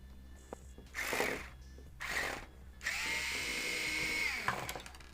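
A power driver drives the panhard bar screw on an Axial SCX10III Base Camp RC truck being fitted with AR45 straight axles: two short whirring bursts, then a longer steady run, close and fairly quiet.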